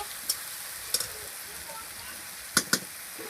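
Ginger paste frying in a pan with chicken masala gives a steady soft sizzle, broken by a few sharp clicks of the spoon as it is mixed in.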